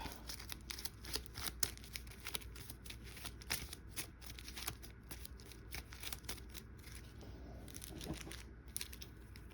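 Playing cards from a GI Joe deck-building game being shuffled, a rapid series of crisp riffling snaps repeating steadily, close by, with no talking.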